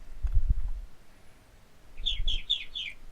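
Blue birds in a video game chirping, a quick run of four or five bright, evenly spaced tweets near the end, preceded by faint low thumps.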